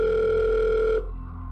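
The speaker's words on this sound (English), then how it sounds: "this phone call is made to the EASTRIDGE County Police Department" A steady telephone tone opens a recorded 1990 emergency call to a county police department, ringing loud and unbroken for about a second before cutting off abruptly, with no voices.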